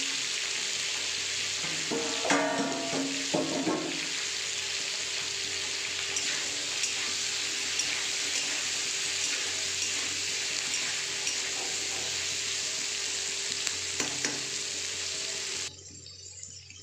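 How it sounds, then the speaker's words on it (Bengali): Two large capsicums fry with a little salt in a pan over full heat, a continuous strong sizzle with stirring clatter early on and occasional utensil taps, cutting off abruptly just before the end. "ভালো করে একটু জাস্ট হালকা ভেজে ফুল স্টিমে একটু ভেজে নেব"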